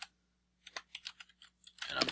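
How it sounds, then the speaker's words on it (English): Quick keystrokes on a computer keyboard while entering a replacement word in a Microsoft Word document, a light irregular run of close clicks ending in a denser, louder burst. "and I'm typing the word, the new word"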